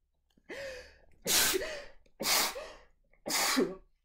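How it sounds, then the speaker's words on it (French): A woman sneezes several times in a row, about four loud bursts each preceded by a short sharp intake of breath, close to the microphone in a quiet indoor room. "Excusez-moi, il faut que j'éternue."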